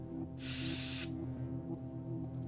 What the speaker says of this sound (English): Make sure I don't spray too much.